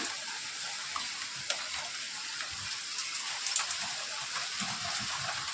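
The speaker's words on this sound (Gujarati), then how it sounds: "છે ને આવો આવે છે વરસાદ" Light monsoon rain patters down in a steady hiss, with scattered sharper drops and splashes standing out now and then, no voices heard.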